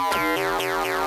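Synth loop in Ableton Live pitched down seven or eight semitones, sounding slightly warped, with bright rhythmic swells repeating about every quarter second.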